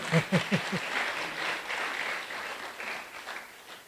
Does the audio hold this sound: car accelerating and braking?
no